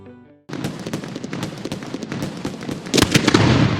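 A rapid crackling string of Diwali-style firecracker bursts goes off nearby, loud and dense, growing heavier toward the end after a short quiet tonal lead-in.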